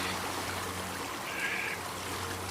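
Snowy Washington creek flowing beside a gold sluice box, a steady broad rush of water heard close and continuous, with no speech.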